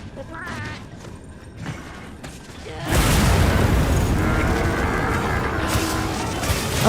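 Bomb explodes in Monster Hunter Wilds, a sudden loud booming blast that breaks in after quieter game sounds and settles into a sustained rumbling roar of debris and effects.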